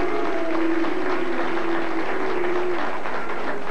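A studio audience at a sports talk show applauds and cheers in a loud, steady wash of clapping and crowd noise that holds for several seconds, with a faint sustained tone running underneath.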